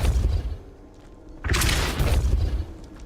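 The Depulso spell cast in Hogwarts Legacy bursts out midway as a loud, deep whooshing boom that swells over a low rumbling bed before fading.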